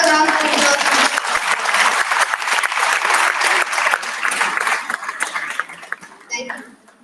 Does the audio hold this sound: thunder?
no